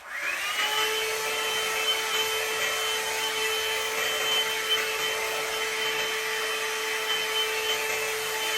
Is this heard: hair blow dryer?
yes